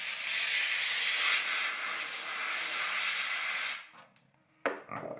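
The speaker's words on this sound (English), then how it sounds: "You can see it does create a lot of steam." A Kmart handheld garment steamer vents a loud, continuous hiss of steam for several seconds before cutting out, followed by a brief burst and a few handling clatters.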